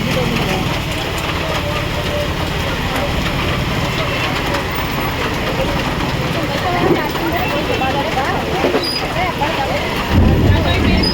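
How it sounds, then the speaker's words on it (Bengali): Thunder rumbling through heavy monsoon rain outside a school, a dense steady roar of downpour filling the whole stretch with low rumbles beneath, loud and continuous, with voices faintly mixed in. "কি মেঘ ডাকছে।"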